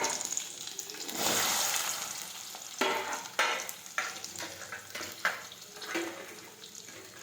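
Mustard seeds, cumin and chopped okra hitting hot oil, a bright sizzle with bursts of crackle and intermittent stirring clatter, close and loud with no talk.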